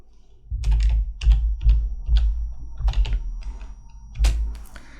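A search term typed on a computer keyboard: a quick series of close, clacky keystrokes in short bursts with small pauses, ending in a firmer key press.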